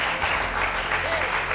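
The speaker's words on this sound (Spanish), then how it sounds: "Aplauso del público. Ahí está el aplauso." Studio audience at a television talk show applauding, a continuous dense wash of clapping held at steady loudness throughout, with faint voices underneath.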